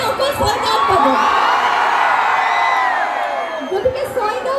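A college audience in Chhaygaon, Assam at a freshers' welcome event shouting and cheering, a loud sustained roar of whoops and yells filling the hall, with brief claps and thuds at the edges.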